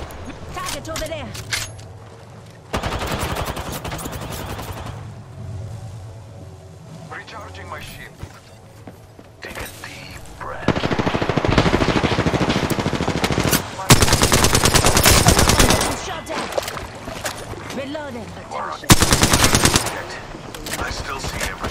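Rapid automatic bursts from an Alternator submachine gun in the video game Apex Legends, loud repeated volleys of several seconds each with brief pauses between, mixed with game voice lines and effects.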